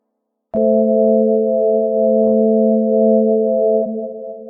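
Valhalla Supermassive reverb on a sustained synth chord, the tail taking on a wavy warped modulation; a steady layered tone rings continuously for several seconds with slight pitch wobble, fading a little at the end.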